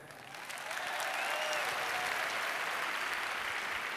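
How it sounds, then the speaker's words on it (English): An audience at a medical talk claps together in a steady burst that swells within the first second and holds evenly, moderately loud, with no talk over it. "how many of you, by a clap of your hands, and I want honest answers here,"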